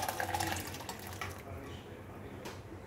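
Thin rasam made with dal water is poured into a pot with a faint liquid splash and trickle, low and close.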